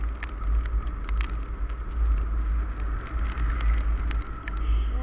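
Rain falling during a road journey toward Moukhali Bridge near Canning, with scattered sharp drop hits over a constant, loud low rumble of vehicle and wind noise, close and continuous with no talking.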